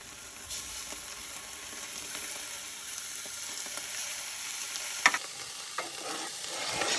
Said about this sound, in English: Okay, the steak is ready for a sear.